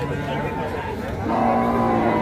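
Young calves at a rural cattle market, lowing moos that swell and grow louder toward the end, set against a busy outdoor background of crowd murmur.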